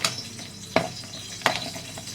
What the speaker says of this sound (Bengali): তো তেলটা গরম হয়ে গেছে এখন আমি মাথাগুলিকে ভেজে নেব